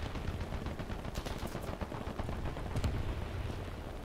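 Dense rapid gunfire from War Thunder combat, a steady clatter of machine-gun bursts with sharper heavier shots poking through, continuous and fairly loud with no voices.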